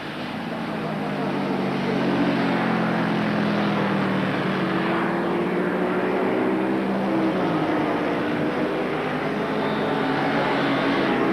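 BMW racing motorcycle engine at full throttle near the finish of a 1977 six-hour endurance race, a loud sustained high roar that shifts pitch as it passes, with no voices heard.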